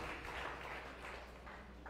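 Applause from a church congregation at a Sunday worship service, a steady dense patter of many hands clapping together, moderately loud and continuous with no pauses.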